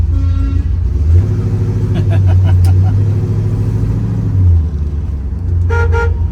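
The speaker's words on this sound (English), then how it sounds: "Horn works." A 1970 Oldsmobile Cutlass S Holiday Coupe sounds its horn, a steady, loud tone held for a few seconds over the idling engine's rumble, followed by a brief second toot near the end.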